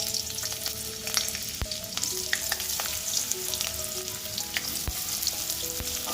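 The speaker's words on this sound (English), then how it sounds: "Once the oil is hot, I am going to add the finely sliced onions into it." Finely sliced onions fry in hot mustard oil in a kadai, a loud continuous sizzle and crackle close up, with scattered sharp pops and spatula clicks throughout and no voices.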